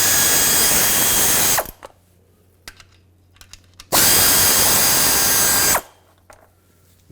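A power tool spins out 10mm bolts from the actuator cover on a 1997-2003 Ford F-150, two loud, sustained whirring bursts close by, separated by quieter clicks and handling noises.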